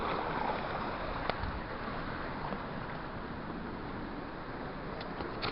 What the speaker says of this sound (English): I'm in the danger zone here. Waves rolling in.